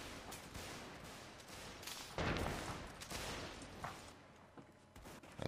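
Sustained musket volleys from Union line infantry crackle in a Mount & Blade North & South line battle, a dense ragged fusillade of overlapping shots with a loud burst in the middle, heard at moderate distance.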